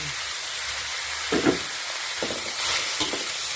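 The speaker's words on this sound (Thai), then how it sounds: "ผัดไปเรื่อยๆค่ะ ตอนนี้หมูของเราก็เหลืองแล้วนะคะ สุกแล้วค่ะ" Minced pork is stir-fried in a pan, with a steady close sizzle and a few scraping stirs of a utensil, and no talking.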